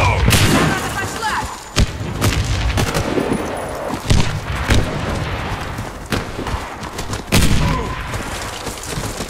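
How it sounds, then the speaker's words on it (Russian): A grenade goes off in the shooter game Warface amid a constant din of gunfire and heavy booms. Loud, dense battle noise is punctuated by sharp blasts, with voices heard over the fighting. "Граната пошла!"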